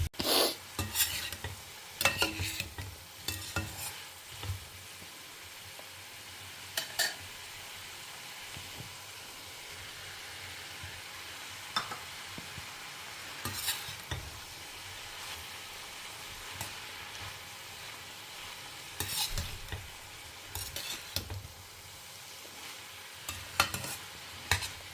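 Chow chow (chayote) and grated coconut being stirred in a pan on the stove, with steady scraping and light sizzling, intermittent spoon-on-pan knocks, close and moderately loud with no talking.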